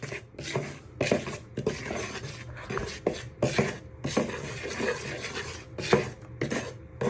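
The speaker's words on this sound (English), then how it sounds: "with a knife, you're going to give all your dry ingredients a good stir in" A knife stirs dry fruitcake ingredients in a bowl, giving repeated scraping, rasping strokes against the bowl with uneven rhythm, fairly close and alone.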